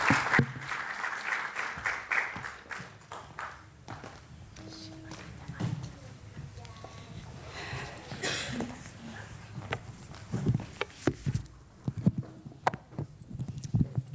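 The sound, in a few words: audience applause welcoming speaker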